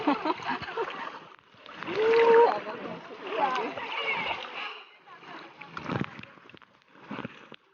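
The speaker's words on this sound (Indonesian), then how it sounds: "Kita terseret ombak, geng." Ocean waves splash and surge in bursts at a beach, with people talking and exclaiming over the rushing water.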